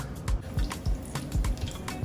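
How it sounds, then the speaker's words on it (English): Oil bubbles and sizzles steadily in a pan while keto tacos cook, with close, crackling pops and spits recurring in an uneven rhythm throughout. "now you can see the oil bubbling"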